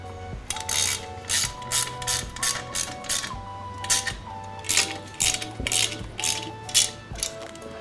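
A ratchet wrench snugs up bolts on a sliding barn door track, fast bursts of sharp clicking repeating in a steady rhythm, close and clear with a faint mechanical hum underneath.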